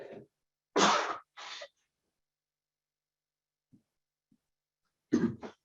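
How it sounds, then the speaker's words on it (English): A person sneezes, a few sharp bursts of breath and explosive exhalation separated by silence, close to the microphone, with faint small sounds between and another burst at the end. "Excuse me, I'm going to sneeze."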